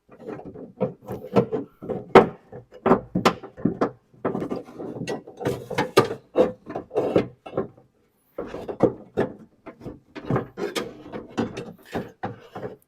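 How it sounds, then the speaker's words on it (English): A car rear door window crank and regulator mechanism being turned during reassembly, producing a series of close, irregular mechanical clicks and ratcheting scrapes with brief pauses, no speech. "So I brought this window crank up, or the window attachment point up, and I spun it"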